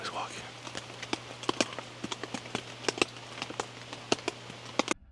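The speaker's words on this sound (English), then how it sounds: "I can hear footsteps on the gravel." Footsteps crunch on gravel around a campsite tent at night, a series of irregular, fairly close crunching steps over a low steady hum.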